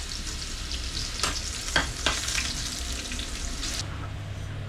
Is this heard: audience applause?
no